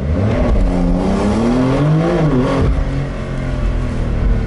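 A Porsche 911 (992) with an eight-speed PDK dual-clutch gearbox pulls away from a standstill, its engine note climbing steadily and loud and close, then dipping briefly at a smooth gear change before rising again.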